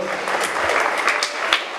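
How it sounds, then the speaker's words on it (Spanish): Audience applause at a tribute event for the Peruvian poet César Vallejo, a steady wash of clapping held at an even level for a couple of seconds with no voices over it. "fuerte aplauso"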